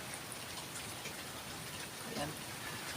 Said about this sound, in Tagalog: Lakas lang naman ang ulan.